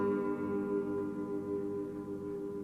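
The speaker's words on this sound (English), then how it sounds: "I've tuned my guitar differently to easily demonstrate what just G would sound like." A guitar tuned entirely to G rings out with a sustained strummed chord, all strings droning the same note in unison, steady and full for a few seconds.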